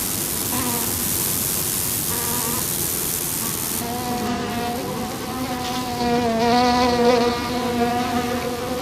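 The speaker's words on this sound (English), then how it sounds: "various insects that waft with delicate wings in the air, buzz among the flowers, and hum among the grass and leaves" Insects buzz and hum in a summer meadow, a steady close drone with wavering pitched whines from flying insects passing near, growing slightly louder toward the end.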